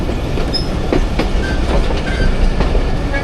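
Loud, steady rail rumble heard from aboard the Jaffar Express, a passenger train easing to a crawl near a station on the Attock–Rawalpindi line, with soft wheel clacks over the joints and a few brief squeals.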